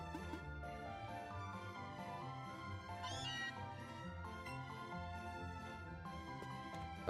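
A cat-like meow from the video game Pokemon: Let's Go, Pikachu rises over steady game music. It is short and clearly pitched, close, and mid-clip, and the background tune plays throughout.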